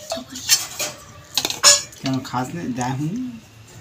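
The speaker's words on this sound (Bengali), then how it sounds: "এই এখন কলা পাতার উপরে ভাতটা সার্ভ করে দিচ্ছি" Hot rice being served onto banana leaves: a series of close clinks and scrapes of a serving spoon against a metal pot, followed by a voice talking over the last part.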